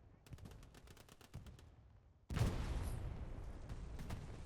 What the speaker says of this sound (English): Good artillery there for the Allies